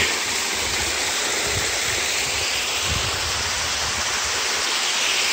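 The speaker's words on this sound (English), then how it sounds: "And now I'm in the middle of climbing waterfall number 3." A large cascading waterfall in Hawaii rushes in a steady, broadband roar close by, with occasional low thumps of wind buffeting the microphone.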